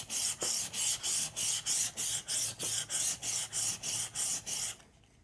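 A file rasps back and forth across a flat blade edge during sharpening, about sixteen quick, evenly spaced strokes in a steady rhythm, close and clear, then stopping.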